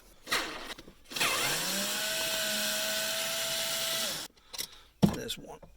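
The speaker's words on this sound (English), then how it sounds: "we now need to take off the cover, which is easiest done by taking these 4 screws out" A powered driver backs screws out of the center console cover of a 2005 Hummer H2, giving one sustained whirring run of about three seconds framed by short clicks and handling knocks nearby.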